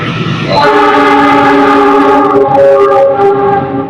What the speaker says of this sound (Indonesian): ada kereta api lewat.